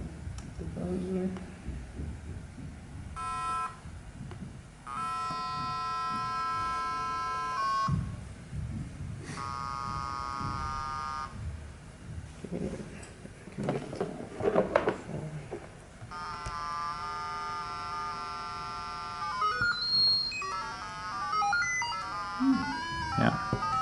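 A Quirkbot electronic buzzer, wired with a light sensor, plays several short bursts of steady melodic beeping tones, each lasting a second or two, with people talking between and under them.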